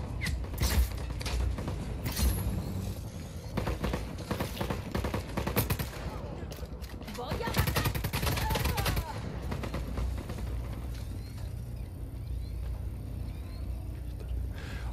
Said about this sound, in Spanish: Voy a utilizar la ametralladora.